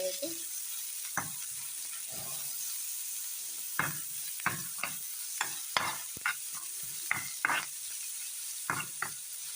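Bombili fish frying in hot oil with salt and chili powder, a steady loud sizzle broken by repeated sharp clacks of a spatula or spoon turning and stirring the pieces.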